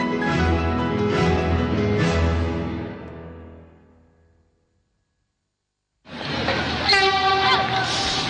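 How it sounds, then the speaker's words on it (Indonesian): A rail bus train in Surakarta sounds its horn in a loud, sustained harmonic blast, cuts to silence for a couple of seconds, then another horn blast returns with rail rumble beneath. "Inilah sarana transportasi rel bus yang hanya terdapat di kota Surakarta."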